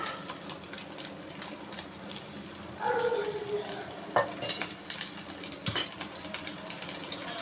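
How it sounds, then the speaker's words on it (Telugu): Carrot, cabbage and capsicum are stirred in oil in a pan for egg fried rice, with a steady sizzle under repeated spoon scrapes and light clinks against the metal, close and continuous, with no talking. "ఈ క్యారెట్, క్యాబేజీ, ఇది క్యాప్సికమ్ మొత్తం కలిపేస్తున్నానండి."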